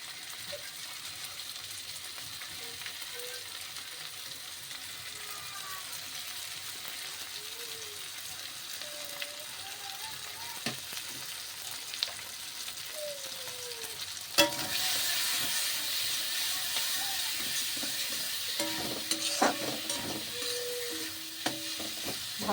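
Spices being sautéed and stirred in a pan, a low continuous sizzle with scraping spoon strokes, swelling to a louder, fuller hiss partway through as more heat or ingredients hit the pan.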